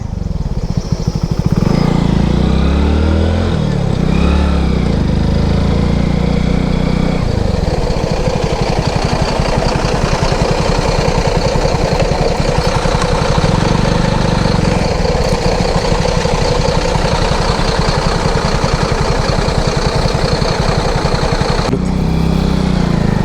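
Motorcycle engine running steadily on a cold mountain road in Nagaland, a loud close continuous drone with rev swells early and midway through.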